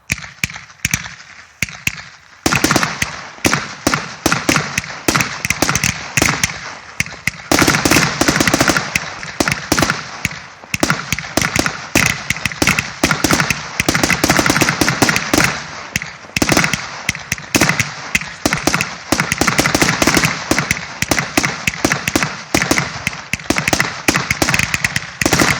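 A 100-shot brocade crown tail firework cake with magenta red pistils fires at a public demonstration, a loud, dense, continuous barrage of rapid bangs and crackles lasting over twenty seconds.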